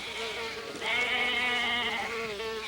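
Sheep bleat loudly and close by, a sustained wavering cry that swells after a quieter start and carries on steadily, no talk over it.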